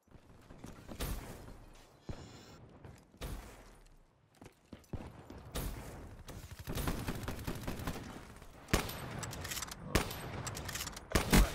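Repeated RSA rifle shots in Call of Duty Black Ops 3 ring out in irregular bursts amid game effects and movement noise, building to a denser, louder cluster of shots near the end.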